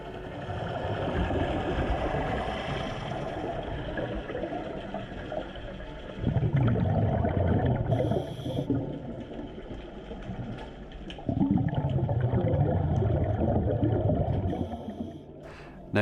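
A motorboat engine drones steadily nearby on the sea off Guernsey, its roar swelling and fading as it circles around, with water noise underneath.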